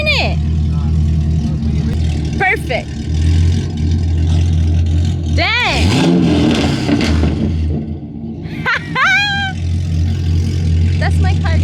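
A car engine with no cam revs and burbles at a street car meet, the exhaust note rising and falling in loud swells beneath excited voices and shouting.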